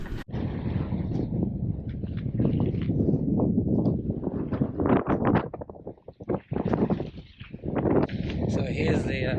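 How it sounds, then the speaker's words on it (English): Strong wind buffets the microphone outdoors on a remote road trip, a steady roaring rush under someone talking. "we're in a fair bit of wind here"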